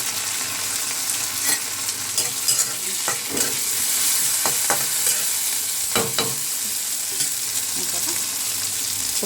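Moong dal fries in a hot pan with a continuous sizzle, broken by a few sharp scrapes and clacks as it is stirred.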